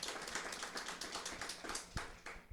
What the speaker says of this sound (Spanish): Es que ese aplauso así como que no queriendo dárselo.